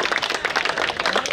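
Audience applause at a cricket tournament's post-match presentation ceremony in Balangir, with a crowd clapping briskly and loudly, close up, throughout the brief moment.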